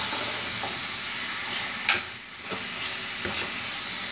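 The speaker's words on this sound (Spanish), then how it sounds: "Voy a poner primero el pollo a sofreír." Skin-on chicken pieces browning in a casserole pan with no added oil give a steady, close sizzling hiss throughout, with a few soft clicks of stirring.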